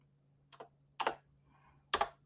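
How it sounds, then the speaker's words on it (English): Fingers tap on a computer keyboard in a quiet room, giving three short bursts of clicky keystrokes, close and fairly soft, with pauses between them. "No, it's my typing."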